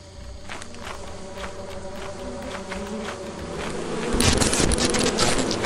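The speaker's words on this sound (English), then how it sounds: "I'm gonna grab these bees!" A swarm of circuit bees in the video game Lethal Company buzzes continuously alongside quick footsteps, and the buzzing grows louder and harsher near the end as the player gets close.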